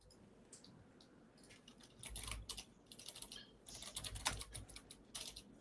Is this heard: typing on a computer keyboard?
yes